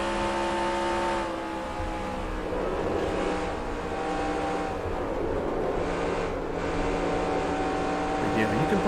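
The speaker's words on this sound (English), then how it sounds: "And of course you can hear the gas. I'm on and off that gas, working that quite a bit." A race car engine in NASCAR Racing 2003 drones loud and steady, with throttle rising and easing as the driver goes on and off the gas, and someone talks over it.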